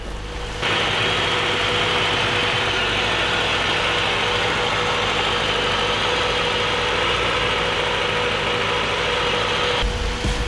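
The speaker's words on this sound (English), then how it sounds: "The engine runs." A Honda Integra Type R engine idles steadily up close, a loud continuous hum with a faint rhythmic knock, starting and stopping abruptly at the edges.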